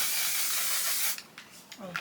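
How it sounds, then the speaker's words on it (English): A makeup setting spray gives one long steady pressurized hiss lasting about a second, close and loud, then stops as a person starts speaking. "the only setting spray that has really worked for me going forward"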